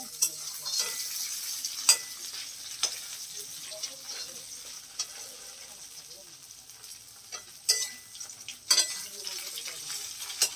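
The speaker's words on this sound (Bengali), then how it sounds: "মাছগুলোকে আগে সুন্দর করে আমি ভেজে নিচ্ছি।" Fish frying in a pan, a soft steady sizzle with faint scattered clicks and light utensil scrapes, fairly quiet throughout with no talking.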